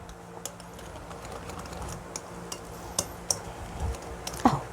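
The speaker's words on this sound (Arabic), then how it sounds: "هنقلب بقى كويس" Cupcake batter is stirred in a bowl after the dry ingredients go into the wet, with quiet irregular clicks and scrapes of a utensil against the bowl, soft and close, growing slightly busier toward the end.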